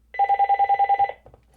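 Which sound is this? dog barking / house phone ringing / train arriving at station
house phone ringing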